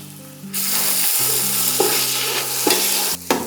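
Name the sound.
onion and capsicum sautéing in hot oil, stirred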